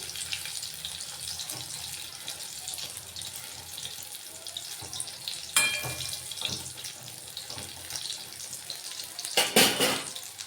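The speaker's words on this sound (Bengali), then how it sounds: "আর পকোড়াগুলোকে আমি মিডিয়াম ফ্লেমে ভেজে নেব।" Tomato and egg pakoras frying in oil over a medium flame, giving a soft continuous sizzle and bubbling hiss with a few louder crackling bursts and occasional clinks, close by and without talk.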